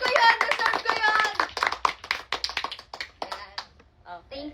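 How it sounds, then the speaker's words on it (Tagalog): Several bursts of hand clapping ring out, quick and close, thinning into scattered taps at the end, mixed with a girl's excited speech. "Palakpak."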